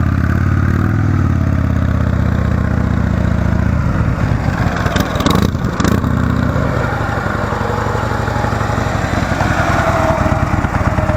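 A motorcycle engine idles steadily and loud, then revs briefly as the bike pulls away from a stop into a slow turn, settling back to a low running drone.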